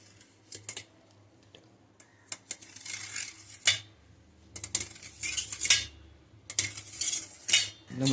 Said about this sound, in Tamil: இப்போ இதை ஜெல்லி பீஸாக கட் பண்ணலாம் வாங்க.